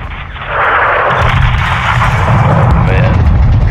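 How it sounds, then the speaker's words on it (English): A missile strike explodes on a greenhouse in Modern Warfare 2: a loud, sustained rumbling blast fills the clip, swelling after a brief quieter start and continuing as a dense low roar. "Missile coming out."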